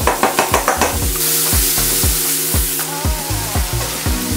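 Onion frying in olive oil in a pan, with a steady sizzle under repeated stirring and scraping strokes that fall in a quick, regular rhythm, close and fairly loud, with no one talking.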